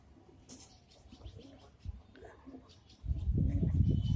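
Saharanpuri pigeons cooing in a loft, soft low coos under people talking, then a louder burst of deep cooing and wing or body rustle near the microphone toward the end.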